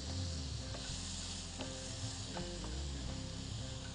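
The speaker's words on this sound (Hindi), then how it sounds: "देखिए मुर्गी बहुत जल्दी फ्राई हो रही है" Chicken pieces with spices frying over high heat in a pan: a loud, close, continuous sizzle, broken by a few scraping stirs and clinks of a utensil.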